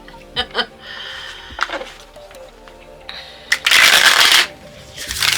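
Playing cards are shuffled close by: a few sharp flicks, then a dense riffling burst, and another riffle starting at the end.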